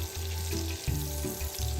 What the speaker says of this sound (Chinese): 先将虾米爆香。